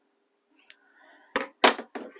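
Scissors trimming quilt fabric: a short snip followed by three sharp, close cuts in quick succession, with brief quiet gaps between them.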